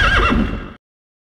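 Horse neighing in a black-and-white film scene at night, a loud, close whinny with a wavering pitch that rises and falls, lasting under a second before cutting off abruptly into silence.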